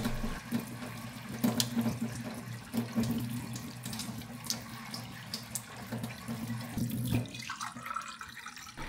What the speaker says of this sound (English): let the cold water tap run for 5 minutes to activate the filter